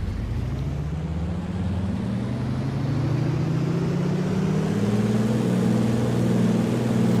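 Bush plane engine in Flight Simulator X, run up with the brakes held for a max performance takeoff: a loud continuous propeller drone whose pitch climbs steadily as power builds, with no voices.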